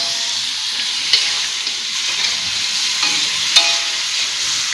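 Spices sizzling in a hot frying pan after a splash of water, a steady bright hiss with a few stirring clinks, cooking a dish from hunted game.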